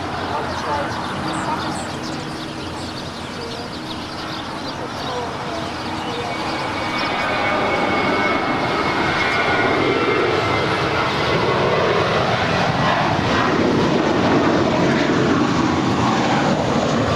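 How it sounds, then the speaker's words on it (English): American Airlines Airbus A321 jet departing LAX, a broad distant engine roar that grows steadily louder and rumbles on throughout, with voices talking over it. "is American 2780 departing to Austin. It's an A321."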